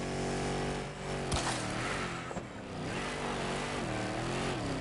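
An FRV vehicle engine in Helldivers 2 revs loudly and close, its pitch climbing and dipping through gear shifts in a continuous mechanical drone.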